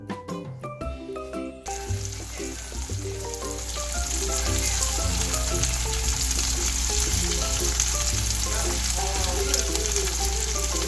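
Squid and seafood scallion pancake batter sizzles and crackles loudly in a hot pan after a few clicks, a dense, steady frying hiss with no talking.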